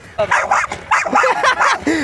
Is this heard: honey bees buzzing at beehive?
no